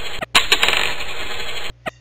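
Coins clatter down in a coin pusher game: a short jingling cascade of metallic clinks over a steady electronic hum, with a few isolated single drops before and after.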